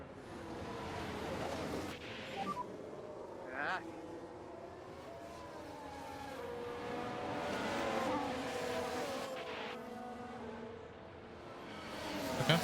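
Race car engine in F1 Manager 24 with an Aston Martin on the United States circuit, a droning high whine rising and falling as cars pass, with someone talking over it.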